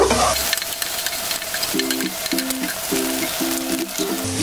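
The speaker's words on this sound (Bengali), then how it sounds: "দুটো এলাচ, একটা কালো এলাচ, কয়েকটা লবঙ্গ। একটু ভালো করে ভেজে নেব।" Whole green cardamom, black cardamom and cloves sizzle steadily in hot oil for beef biryani, a continuous close frying hiss with a few faint clinks of stirring, no voices.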